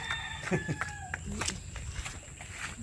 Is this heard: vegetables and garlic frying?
no